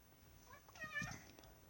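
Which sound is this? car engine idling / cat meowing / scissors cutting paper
cat meowing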